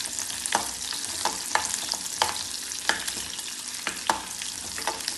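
Onion pieces and carrots sautéing in a hot pan, a soft continuous sizzle broken by regular sharp scrapes and clinks of stirring, with no voices.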